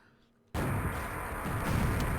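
A Quake rocket launcher fires in a 2v2 match, one sudden loud blast erupting after a short quiet lead-in and then rolling on as a dense, sustained roar.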